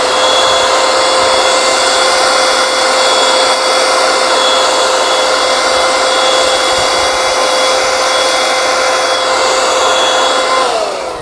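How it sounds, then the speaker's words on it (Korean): A cordless one-handed handheld leaf blower runs continuously at full power, a loud steady high-pitched whooshing whine with a tonal hum, alone and close, easing slightly at the end. "한 손 송풍기 치고도 풍량이 굉장히 셉니다 지금."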